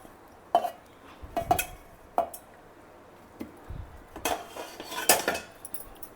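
Cooked rice being mixed in a vessel with a utensil for home-style rice vadalu, giving a few scattered metallic clinks and scrapes at close range with quiet gaps between them.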